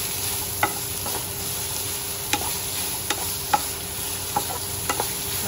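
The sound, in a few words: frying chopped vegetables in a pan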